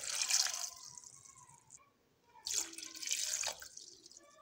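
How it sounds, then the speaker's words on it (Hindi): Water poured from a glass onto 250 grams of tamarind in a bowl for chutney, two splashing pours separated by a brief pause, close and fairly loud. "इसमें अब हम 2 गिलास पानी के डालेंगे।"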